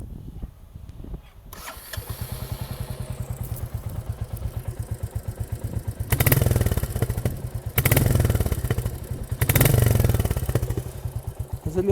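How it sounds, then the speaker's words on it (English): A Royal Enfield motorcycle fitted with its old exhaust starts after a short crank, then settles into a loud, close, steady thumping idle, with several brief blips of the throttle that swell the sound. "I'm going to put a short clip on with the old exhaust on,"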